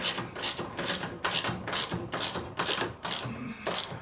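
A ratchet tightens bolts on a RZR side door, clicking in about eight quick, evenly spaced bursts of metallic pawl ratcheting, close and clear with no talking.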